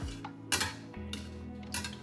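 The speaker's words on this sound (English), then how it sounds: "So I'll just gently scrape the egg around until it's all the way cooked" Scrambled eggs with ham being gently scraped around a pan, a few short metallic scrapes and light clinks of the utensil against the pan, close and fairly quiet.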